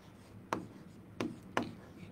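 Handwriting during a number system lesson, three brief scratchy pen strokes spaced apart against a quiet background, close and without talk.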